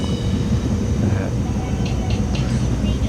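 Cabin of a high-speed train heading to Dali, China: a loud, continuous low rumble and roar of the train running, with faint higher whines and clicks over it.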